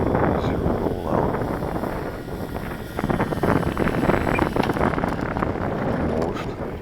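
Wind buffeting a microphone outdoors on an airfield where a foam RC Carbon-Z Cub is flown, a loud, continuous rushing roar with gusty swells throughout.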